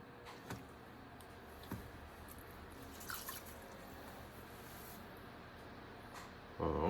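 Water drips from a pottery sponge lifted out of a thrown pot, a few sparse, soft droplet ticks spaced apart against a quiet studio background.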